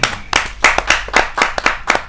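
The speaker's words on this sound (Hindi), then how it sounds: "जोरदार तालियों से आमंत्रित कीजिए डॉक्टर जयसिंह आर्य जी" Audience clapping at a Hindi kavi sammelan poetry gathering as a poet is welcomed, sharp individual claps coming in quick uneven bursts, fairly close and loud, with no talk over them.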